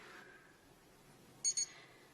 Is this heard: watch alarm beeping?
yes